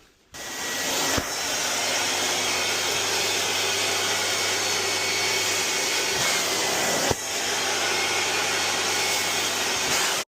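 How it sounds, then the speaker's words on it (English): A Sabrina carpet cleaner runs as a vacuum to dry wet carpet, giving a loud, steady whine that is briefly interrupted twice and then resumes, with no talking. "you want to dry it, is just use the vacuum going all over around"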